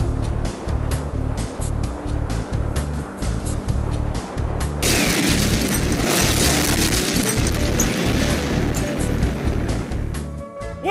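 A video-game bomb blast erupts into a loud, sustained roar, preceded by a steady rumbling engine drone and fading near the end, with no talk over it.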